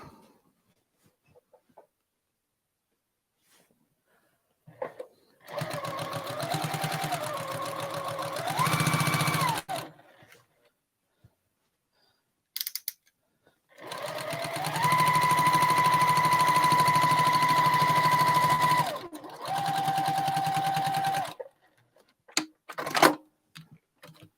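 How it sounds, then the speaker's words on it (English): A sewing machine stitches a quilt in two runs, a short burst and then a longer steady whir with whining motor tones, separated and followed by quiet handling clicks. "we just go back to where I ended and finish sewing this down."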